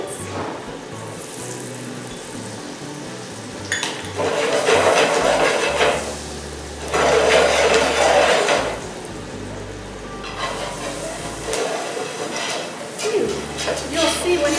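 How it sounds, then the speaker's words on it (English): Onions added to a hot pan with butter sizzle in long hissing surges that swell and fade repeatedly over a low background hum. "And now I'm going to add the onions."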